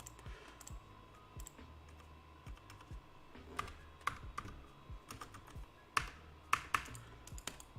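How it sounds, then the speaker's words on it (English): Keys clatter on a computer keyboard in an irregular burst of typing, quick light taps broken by a few louder, sharper strokes, heard close up with no talking. "my keyboard is like really not working right now"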